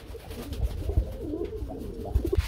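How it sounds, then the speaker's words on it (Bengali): Meghpai pigeons coo at a pigeon farm, with low, rolling throaty calls close by that overlap in a steady murmur. "আমরা এখানে দেখতে পাচ্ছি খুবই সুন্দর একজন মেঘপাই কবুতর রয়েছে ভাইয়া"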